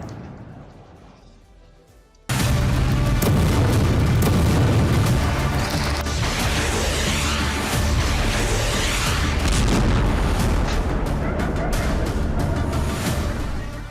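Heavy explosions from a missile attack on Damascus, Syria: after a quieter lead-in, a sudden loud blast gives way to a sustained, dense roar of rumbling booms and crackling that keeps going to the end.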